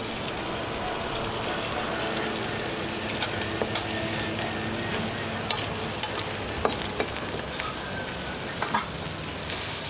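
Mahi-mahi fillet cooking in a pan in a busy kitchen, a dense continuous sizzle with scattered clicks and pops, no talk.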